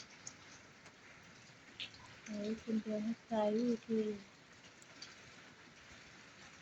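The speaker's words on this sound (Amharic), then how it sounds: "በጣም ነው እየሄደ ያለው ዝናቡ" Heavy rain falls as a steady, even hiss in the background while someone speaks briefly near the middle, the downpour continuing alone before and after.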